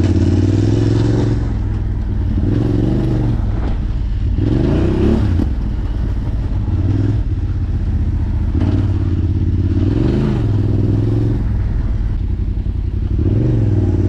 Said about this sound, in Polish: Dzisiaj będziemy kładami upalać po śniegu jakieś zawody zrobimy.